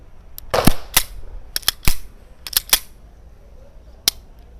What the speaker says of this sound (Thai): อ่ะขอเคลียร์ปืนก่อนนะคะ